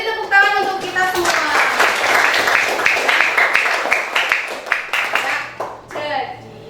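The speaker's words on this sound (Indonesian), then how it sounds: "Beri tepuk tangan untuk kita semua." Classroom applause from students in a school lesson, a burst of many hands clapping together rising after a teacher's voice and fading, with someone speaking briefly near the end.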